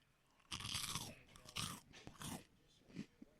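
Crunchy chewing of chocolate-filled cereal pillows, loud and close, coming in several bursts of crisp bites and munching.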